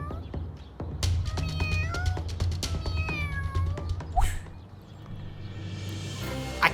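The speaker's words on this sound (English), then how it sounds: "That poor cat is stuck up in that tree!" A cat stuck up in a tree meows repeatedly, several rising and falling cries close and loud, with a strained caterwauling quality and some rustling between calls.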